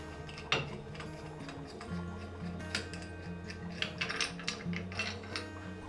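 Soft metallic clicks and ratcheting rattles come from loosening and shifting the fence on a Sabre bandsaw table, with scattered knocks over a low, steady hum.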